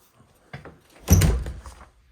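The front door of a house in Waitsfield, Vermont opens with a light click followed by a louder thunk and rattle, close by in a quiet room.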